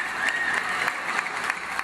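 Applause ringing out from apartment windows and balconies at night in thanks to health workers, a dense, slightly distant wash of clapping with a few whistles heard over it.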